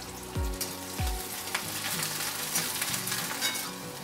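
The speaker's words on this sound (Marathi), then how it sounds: "कांदा पुन्हा चांगला भाजून घेऊया।" Onions and small bay leaves fry in hot oil, a steady crackling sizzle close by, with a few deep thumps and clanks of the pan and spoon early on.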